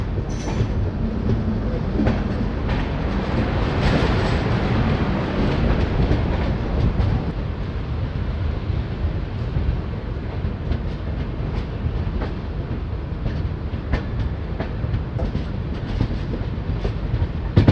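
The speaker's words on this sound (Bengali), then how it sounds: "ফাইনালি বান্দা স্টেশন থেকে ট্রেন ছেড়ে বেরিয়ে যাচ্ছে।" A train pulls out of Banda station on the Howrah–Agra route, heard from on board. The rumble and clatter of the wheels run steady and close throughout, with no talk over them.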